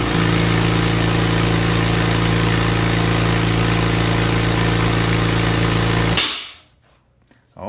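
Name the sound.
air compressor running for paint sprayer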